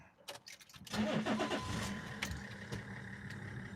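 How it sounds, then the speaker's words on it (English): A car engine cranks briefly, catches and settles into a steady idle nearby, rumbling on without talk. "Try and roll away from the camera so the engine noise isn't as"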